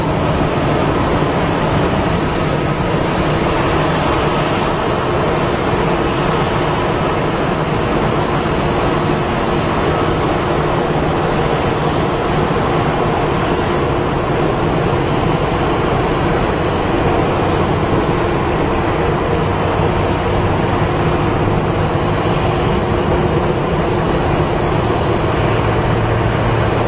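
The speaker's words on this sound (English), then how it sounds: "They're departing now on the more southern runway." An airliner takes off from a runway at Brussels Airport, heard from the airside as a loud, steady, broadband engine roar that holds constant throughout, with no talking.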